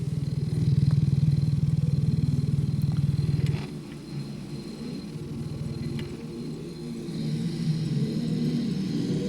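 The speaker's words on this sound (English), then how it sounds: "we won't run that motor too much" A 1951 Revere T-100 5-inch reel-to-reel tape recorder runs with a loud, low motor hum and rattling clatter that drops abruptly partway through, then continues as a quieter steady whir with faint ticks.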